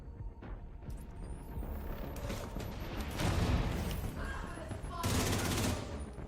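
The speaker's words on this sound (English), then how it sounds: "Oh yeah, it is like a rocket launcher turret." A rocket launcher turret firing in The Division 2, giving repeated loud blasts and rattling bursts over a steady din, with two strong surges of explosions and voices talking beneath.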